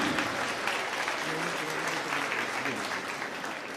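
Steady, dense applause from an audience at a Hindi comedy poetry gathering, filling the whole stretch at even loudness, with faint voices mixed into the crowd.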